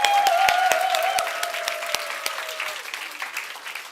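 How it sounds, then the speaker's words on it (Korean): Warm applause from a church congregation for children after their Christmas worship performance, steady clapping that gradually thins out while a sustained musical tone lingers underneath. "우리 수고한 아이들에게 다시 한번 박수."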